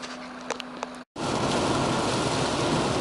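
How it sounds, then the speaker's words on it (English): Heavy rain pours steadily against a moving car while driving through Nova Scotia, a dense continuous wash with a few faint taps at first, broken by a brief silent gap before the roar resumes. "it's still raining pretty profusely"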